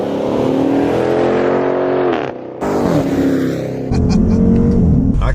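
A Dodge Charger in sport mode pulls hard through city streets, its loud engine roaring and climbing in pitch, briefly dipping at a shift, then surging again close up.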